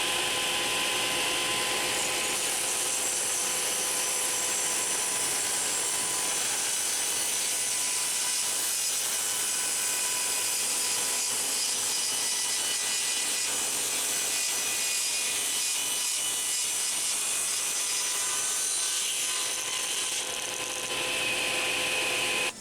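A saw cuts a taper along a wooden table leg for a sewing machine table, a loud continuous whining drone with a rough, grinding texture that holds steady for the whole length of the cut.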